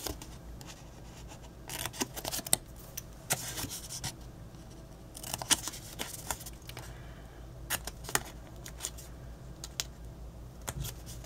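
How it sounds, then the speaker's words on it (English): Scissors snip off the small corners of scored, folded paper in a craft project: a series of quiet, crisp, close cuts at irregular intervals, with no talking. "Fold your score lines, cut off the little corners."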